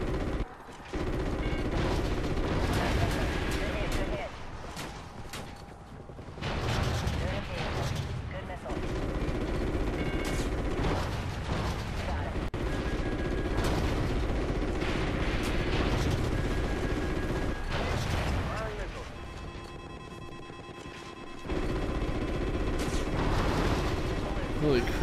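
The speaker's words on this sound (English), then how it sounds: "What the fuck is shooting at me?" Gunfire fills a Call of Duty Ghosts campaign firefight, repeated bursts and heavy shots over a rumbling helicopter-like drone, with short lulls between volleys and someone talking at times.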